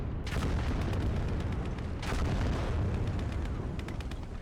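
Rocket artillery fires a salvo in the World War II strategy game Gates of Hell, two heavy bursts of booming rushes rising over a constant battlefield rumble, loud and close.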